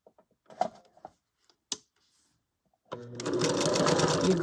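A sewing machine stitching a fabric ruffle starts up after a few soft handling taps and then runs steadily and close, a dense continuous mechanical whir that carries through to the end.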